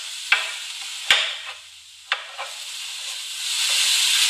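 Crawfish and shrimp sizzle in a pan while egg rolls are being made, a steady hiss that swells toward the end, broken by a few sharp clacks of stirring.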